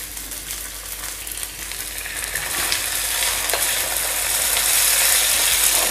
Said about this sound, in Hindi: अब इसमें हम डाल देंगे साबूदाना।